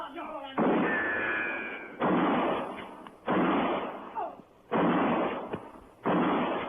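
Rifle gunfire in a western shootout: several loud booming shots spaced a second or so apart, each with a long ringing tail, heavy and close, with shouting voices between them.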